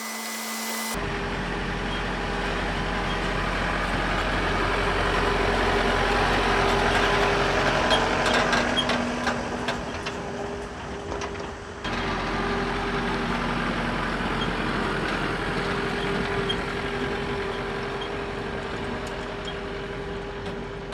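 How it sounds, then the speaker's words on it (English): A tractor engine runs steadily at close range while lifting a homemade little red dump wagon beside a pond, a continuous droning hum with a brief dip partway through and no talking. "grab the tractor and raise it up"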